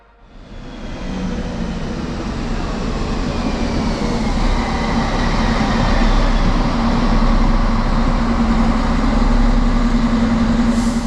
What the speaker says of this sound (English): my next train, which is now coming from Tübingen and will be a different train.